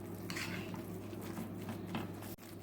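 Boiled chicken being stirred and mixed with mayonnaise in a bowl, soft close scraping and squelching of a spoon with light clinks against the dish, over a steady low hum.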